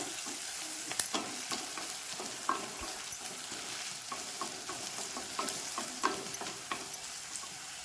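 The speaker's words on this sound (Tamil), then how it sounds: "இப்போ அது கூடயே நான் எடுத்து வச்சுருக்க வரமிளகாயும் போட்டுக்கிறேன். பதக்குவோம் நல்லா." Dried red chillies sautéing in a hot pan for sprouted horse gram biryani, with a continuous close sizzle and frequent scraping, tapping stirs throughout, no talking.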